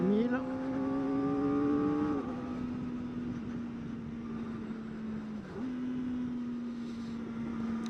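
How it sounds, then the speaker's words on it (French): A 2024 Kawasaki ZX-4RR motorcycle engine runs at high revs with a sharp, whining tone that climbs for two seconds, dips, then holds a steady high pitch under wind rush, dropping briefly once more before picking up again. "le moteur met l'ambiance quoi, en termes de prise de régime, c'est vraiment cool"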